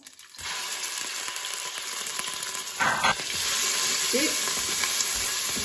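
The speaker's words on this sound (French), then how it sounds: "Là, vous laissez la viande dorer un petit peu." Meat browning in oil inside a Cookeo electric pressure cooker, a steady hissing sizzle that rises and holds after a quiet start, with a brief stir and a short spoken word.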